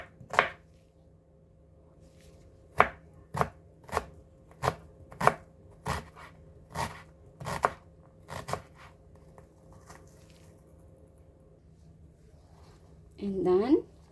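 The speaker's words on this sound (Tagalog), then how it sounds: "Let's cut our onion into small size cubes." Knife chopping white onion into small cubes on a board, about a dozen crisp, evenly spaced cuts up close, then a pause and a brief scraping sound at the end, with no voice heard.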